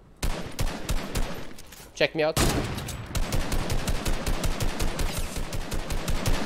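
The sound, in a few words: gunfire in the video game Fortnite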